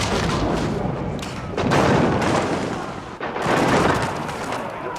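Cannons bombarding stone walls in Age of Empires 4, a multiplayer 2v2 match, with repeated heavy booming impacts and crumbling crashes layered over a dense battle din, loud and close.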